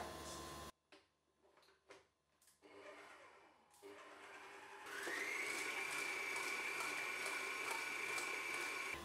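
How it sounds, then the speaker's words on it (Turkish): A few soft clicks and knocks, then an electric hand mixer starts up and whirs steadily at high speed, close by, whisking egg whites. "ve mikserle biraz çırpacağım."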